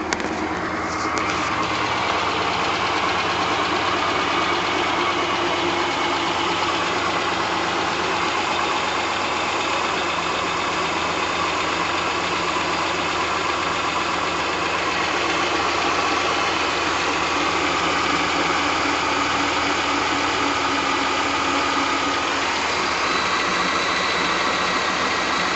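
Chevy 327 cubic inch (5.3L) V8 engine idling steadily, a continuous loud rumble with a slight knock throughout, no talk.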